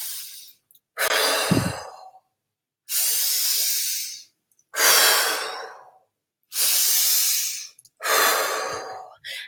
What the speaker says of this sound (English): And then you start breathing.